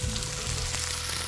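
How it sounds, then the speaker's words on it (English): Potatoes frying in olive oil in a hot pan give a steady, even sizzle, close and moderately quiet, with no voices over it. "My pan's nice and hot, so first I'm gonna add in some olive oil, then I can throw in my potatoes and let these brown."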